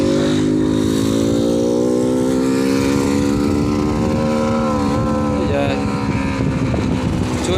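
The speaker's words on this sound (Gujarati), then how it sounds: "જો 2 છોકરાઓ બાઇક લઈને આવી રહ્યા છે" A motorcycle carrying two boys speeds past, its engine a loud, steady drone that rises slightly in pitch as it goes by, with continuous road and wind noise throughout.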